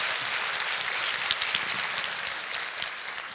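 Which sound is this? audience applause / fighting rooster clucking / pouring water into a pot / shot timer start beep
audience applause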